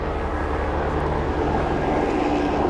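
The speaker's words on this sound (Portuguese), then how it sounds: "É um avião?" An airplane passing overhead gives a steady, broad roaring rumble that holds at a moderate level throughout, with no voices.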